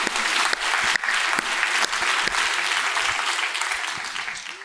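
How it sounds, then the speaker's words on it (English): Strong, close applause from a medical conference audience, a dense wash of clapping with distinct sharp claps poking through, fading slightly at the end. "This deserves a clap."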